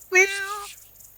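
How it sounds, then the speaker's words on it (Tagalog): A single short meow from a cat, clear and close, fading into quiet. "pahawak nga ako sa pusa mo."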